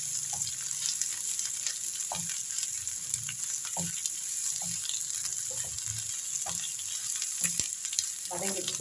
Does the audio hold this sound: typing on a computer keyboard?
no